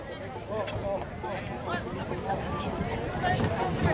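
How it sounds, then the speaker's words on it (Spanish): Horse hooves clip-clopping on hard ground amid a chattering crowd at a town festival, with an announcer speaking in Spanish over the scene. "Allá está un caballo, educado, saludando."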